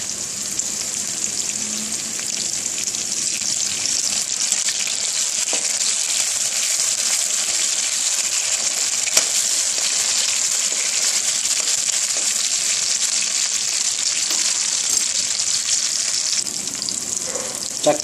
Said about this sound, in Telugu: కొంచెం సేపు వేగనివ్వాలి, పచ్చివాసన పోయేదాకా.